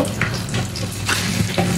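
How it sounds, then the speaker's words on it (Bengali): Turmeric- and salt-rubbed hilsa fish pieces fry lightly in oil, producing a loud, continuous close sizzle with crackling throughout. "তো এখন হচ্ছে এই মাছগুলো একটু হালকা ভাজা দিয়ে নিব।"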